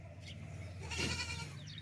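A sacrificial male goat at a livestock sale gives a faint, short bleat, heard distantly over a low steady background hum.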